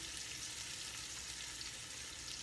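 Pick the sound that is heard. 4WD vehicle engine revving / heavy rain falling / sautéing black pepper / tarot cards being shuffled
sautéing black pepper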